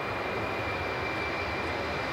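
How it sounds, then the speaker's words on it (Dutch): A Royal Australian Air Force Boeing C-17 jet comes in to land with a steady, loud engine roar and a thin whine above it, unbroken throughout with no voices. "U kunt het vliegtuig aan horen komen."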